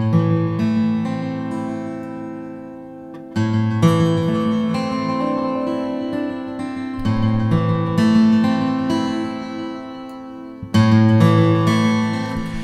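Sustained musical notes processed through a free stereo delay effect plugin with its width turned up toward 100%, echoes spreading out as repeated phrases ring on, with no talking.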